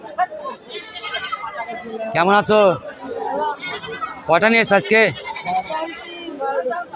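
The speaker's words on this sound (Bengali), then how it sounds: "এটা কি জাতের ছাগল" Goats bleat loudly in several sharp, wavering calls at a busy village goat market in Ullapara, Bangladesh, close by and mixed with people talking.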